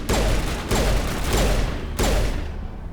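Heavy bursts of gunfire in the video game Mass Effect, three or four loud blasts spaced about a second apart, each followed by a rumbling tail.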